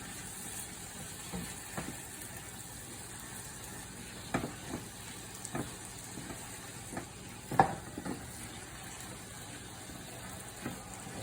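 Mushrooms stir-frying in a pan with a little olive oil for a burger topping, heard as a soft sizzle broken by scattered scrapes and clacks of stirring, close and quiet, with no voices.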